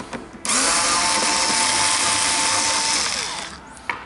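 A handheld power tool whirs steadily as it backs screws out of the front fairing of a Citycom 300i scooter, one sustained close buzz lasting a few seconds with brief clicks before and after.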